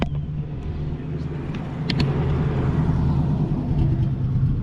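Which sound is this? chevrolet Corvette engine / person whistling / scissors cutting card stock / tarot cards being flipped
chevrolet Corvette engine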